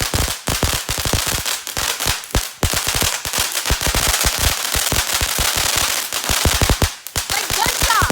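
TNT brand firecrackers explode in a rapid chain of loud, sharp bangs like gunfire, with dense bursts close by and brief pauses between volleys.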